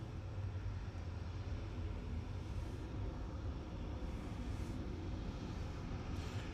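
An Airbus A330-300 airliner arriving at Manchester Airport makes a steady, distant, broadband jet rumble that holds evenly throughout, with no voices.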